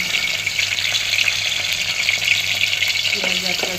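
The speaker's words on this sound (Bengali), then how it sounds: "পেঁয়াজ আর তেজপাতা দিয়ে দিয়েছি পাতিলে।" Onion and bay leaves frying in oil in a cooking pot, a steady loud sizzle running throughout with a low hum underneath and a few faint clinks near the end.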